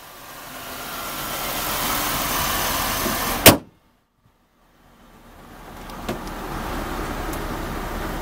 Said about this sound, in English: This vehicle has power windows.